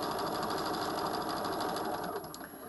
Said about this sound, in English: I'm going to sew to the corner